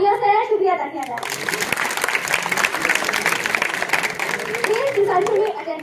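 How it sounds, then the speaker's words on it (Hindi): Warm applause from an audience thanking a poet at a farewell ceremony, clapping swelling in after a spoken line and holding steady for several seconds, with children's voices and chatter mixed in. "इनका पुरजोर तालियों से शुक्रिया अदा किया जाए"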